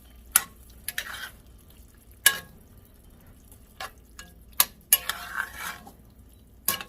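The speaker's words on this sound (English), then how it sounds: "I'm going to let that simmer a little while longer" Marinara sauce simmers in a pan for sloppy joes with a soft, steady sizzle. A utensil stirs it, and sharp metallic clinks against the pan come at irregular moments.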